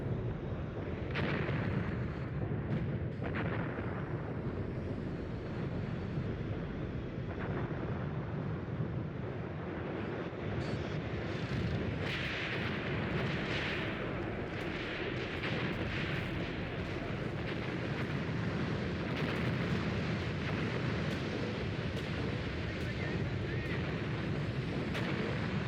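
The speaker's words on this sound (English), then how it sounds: "is that the mortar Panzer?" Heavy mortar and artillery fire from a Panzer in the WWII tank game Tank Warfare: Tunisia 1943, with booming blasts and rumbling battle noise that stay dense throughout and sit under a player's voice.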